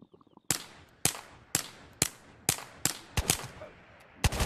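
Gunfire in the video game Ghosts of Tabor: eight sharp, loud single shots at roughly half-second intervals, the last few more closely spaced, with no talking.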